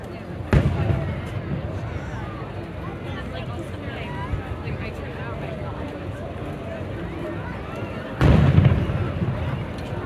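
Two heavy booms of fireworks go off at a balloon glow event in Manitowoc, Wisconsin, one near the start and one near the end, against a steady rumbling background with murmuring voices.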